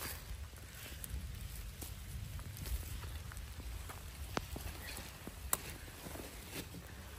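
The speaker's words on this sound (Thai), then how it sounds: "ฝนก็ตก" Rain patters steadily in a forest during wild mushroom picking, a soft even hiss broken by a few sharper close drops striking leaves and the ground, with no voices.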